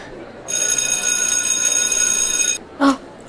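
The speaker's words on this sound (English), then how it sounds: "Oh, there's the bell." A school bell rings loudly for about two seconds in a continuous metallic trill, then stops, followed by a brief separate tone.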